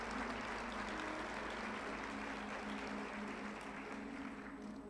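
A church congregation applauding, sustained dense clapping from many hands that holds steady across the whole stretch, fairly distant and fading slightly at the end, with no voices over it.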